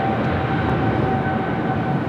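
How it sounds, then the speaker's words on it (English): A Philippine Airlines heavy jet rolls for takeoff at an airport, a dense steady engine roar with a thin tonal whine, heard briefly and without talk. "Got another heavy rolling down 25 right. Philippine Airlines flight 113."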